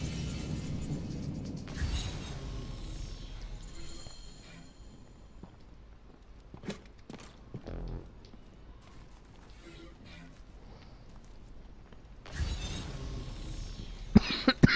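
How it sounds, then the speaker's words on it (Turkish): A man who is ill coughs a few times while playing Assassin's Creed Origins on PS4; the coughs are scattered among quieter game sounds and sharper bursts near the end. "Hastayım, o yüzden öksürüyorum arkadaşlar."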